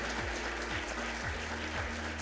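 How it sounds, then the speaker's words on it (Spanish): Applause at a ceremony, a steady wash of clapping from the audience with a low rhythmic hum beneath it, no talk. "le pido en este caso un aplauso en su persona para la institución"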